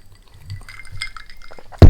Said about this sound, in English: soda water with ice cubes.